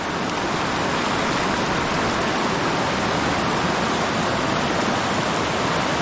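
Loud, steady roar of a rushing river swollen by heavy rain filling the whole clip, a continuous broadband wash with no breaks and no voices.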